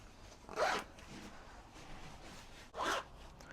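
Zip on a side pocket of outdoor trousers pulled open twice, two short, close rasping zips separated by a quiet pause of about two seconds.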